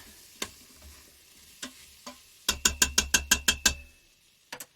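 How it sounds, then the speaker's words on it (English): A spoon knocks and scrapes against the Instant Pot's metal insert while cumin and cayenne are stirred into a sweet potato and peanut stew. Scattered single clicks come first, then a quick rhythmic run of about eight taps over faint sizzling. "Stir that around a little bit."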